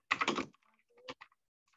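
A quick burst of computer keyboard typing while naming a file, rapid close clatter for half a second followed by a few scattered softer key taps, no talk.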